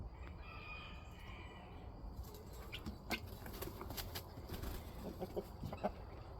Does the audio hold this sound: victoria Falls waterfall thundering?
no